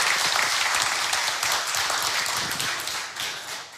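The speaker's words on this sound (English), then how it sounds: "And big round of applause." A crowd at an engineering careers event applauds steadily, a dense wash of many hands clapping at full volume that tapers off slightly toward the end.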